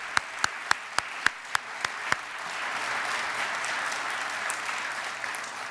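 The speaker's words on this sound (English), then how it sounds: "why don't we have a round of applause for John?" A few loud, distinct claps ring out near the start, then a broad wash of audience applause at an event builds and holds steadily, moderately distant in a large room.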